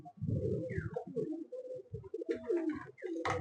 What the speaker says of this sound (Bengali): প্রথমে কালো পায়রাটা দেখায়।